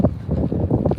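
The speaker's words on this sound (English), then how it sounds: "if you can hear me, it's really windy" Wind buffets the microphone in low, rumbling gusts at an open space outdoors, loud and close, with no other sounds.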